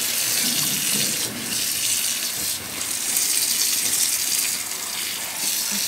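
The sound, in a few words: water running from sink tap during wet felting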